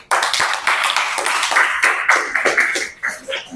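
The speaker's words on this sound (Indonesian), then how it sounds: "kita berikan aplaus untuk kelompok besar" Audience applause for a large student group in a Jakarta classroom, a steady crackle of many hands clapping together for a few seconds, with murmuring voices mixed in.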